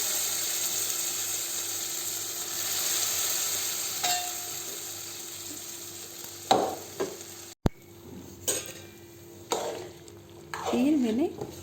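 Boiled vegetables stirred into hot ghee sizzle steadily, with scraping and clattering of a spoon against the pan, a sharp clunk partway through.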